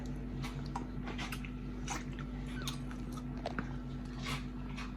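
Someone chewing food during a Mother's Day meal, with close, wet crunching bites repeating irregularly over a steady low background hum.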